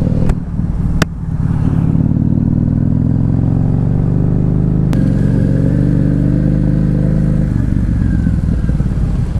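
A motorcycle rides along a road on a long trip from Delhi. Its loud, steady engine drone rumbles close throughout, with a few sharp clicks and a slight shift in pitch midway.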